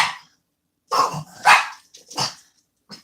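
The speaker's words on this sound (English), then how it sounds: "they're barking because I moved something" Several dogs bark close by in a few sharp, loud bursts separated by short silences, with no one talking during the barks.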